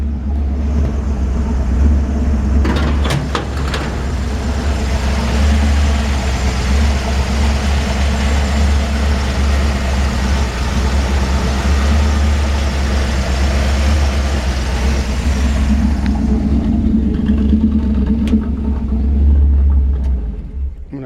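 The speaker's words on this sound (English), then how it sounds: "Engine runs super strong." Rebuilt 350 V8 in a 1951 Ford F-1 truck with side exhaust idles with a loud, deep, steady rumble, a lumpy low throb close up that runs throughout, with a brief rise near the end.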